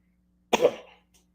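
A single harsh, sick cough bursts out close up, followed by a faint short tail of breath, otherwise quiet.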